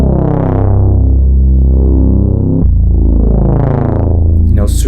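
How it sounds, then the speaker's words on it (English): Dark, heavily distorted synth bass patch from an Analog Lab preset, two long gritty sustained notes with a dense buzzing harmonic tone, the second starting mid-phrase, loud and alone. "And the bass that I use, it's bought from my Analog Lab Bank"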